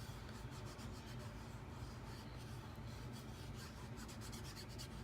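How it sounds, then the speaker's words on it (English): Paper pieces being rubbed down by hand onto a collage page, a steady dry rasping and rubbing that runs continuously and close up, with no voices. "Rub it down."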